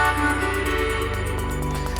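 Opening of a music track built from an Among Us sample: a dense, continuous vocoded virus effect with a steady pulsing low rhythm, loud and full throughout, no voices.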